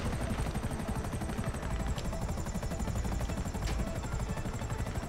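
Video game helicopter rotor thudding in a rapid, steady beat, loud and close throughout, with a continuous engine whine overhead and no talk.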